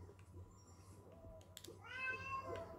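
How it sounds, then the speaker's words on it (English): A house cat meows clearly near the end, a drawn-out call following fainter earlier mews, heard quietly over video-game background sounds. "Oh my god, my cat."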